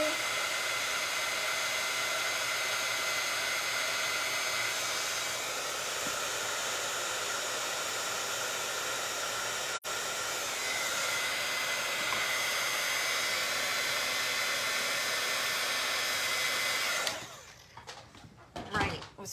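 A heat tool melts embossing powder on a handmade card, giving a steady, close blowing whoosh that runs for most of the clip and then cuts off near the end.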